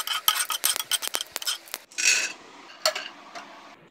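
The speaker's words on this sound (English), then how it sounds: "Now I am dry roasting oats, flax seeds, almonds, peanuts and desiccated coconut one by one." Oats, flax seeds, almonds, peanuts and desiccated coconut are dry roasted in a pan, with rapid close scraping and rattling strokes of a utensil, then a softer stirring swish and a few scattered clicks.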